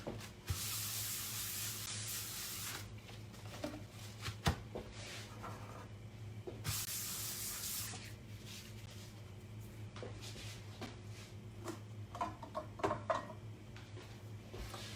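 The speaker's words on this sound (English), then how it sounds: "I want to kind of scrape out that pan" A small rubber spatula scrapes out a cooking pan after making coq au vin, soft continuous scraping and hissy rubbing strokes with occasional light knocks, close and quiet.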